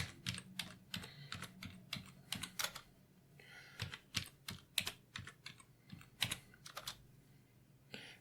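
Typing on a computer keyboard at a steady, uneven pace, with crisp individual key clicks and a few brief pauses, heard close up with no talking.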